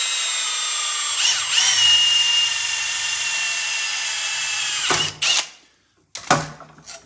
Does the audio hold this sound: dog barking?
no